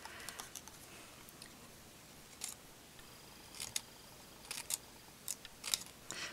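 Scissors snipping small V shapes into vellum paper for a feather craft, a series of crisp close snips spaced irregularly, some in quick pairs, over quiet room tone with no talking.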